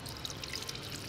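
A little coconut water poured during a Vietnamese dish tasting, a short soft steady stream lasting about a second, with no talk.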